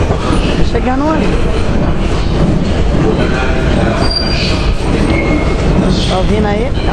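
A Paris metro train pulls into a station, its wheels rumbling and squealing on the rails in rising and falling whines, while people talk nearby over the din.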